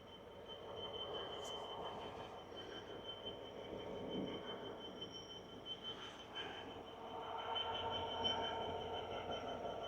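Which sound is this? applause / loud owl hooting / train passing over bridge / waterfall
train passing over bridge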